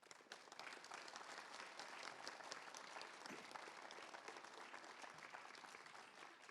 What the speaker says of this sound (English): Aaron would be so happy that you're clapping for him.